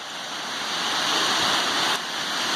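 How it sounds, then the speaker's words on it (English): Waterfall beside a hiking trail at Snowgrass Flat in the Goat Rocks: a steady, loud rushing roar of falling water that fills the whole span without pause. "There's a waterfall"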